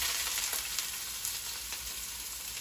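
Onions fry in hot oil in a heavy saucepan for shepherd's pie, a close, steady, loud sizzle with a few soft stirring clicks and no speech.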